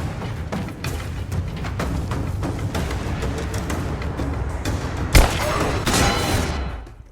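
Thundering drum-driven soundtrack plays during an enemy attack in the Rise of the Tomb Raider video game, with steady pounding hits, a sharp loud impact near the end, then a fade out.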